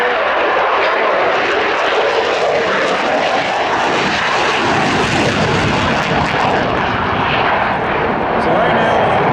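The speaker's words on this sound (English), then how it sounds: "We'll hold off on that story for just a second as the F-16 does" An F-16 fighter jet of the 120th Fighter Squadron roars past during a display at the Abbotsford Airshow, a loud, continuous broadband jet rush swelling and fading as it passes, with no one speaking during it.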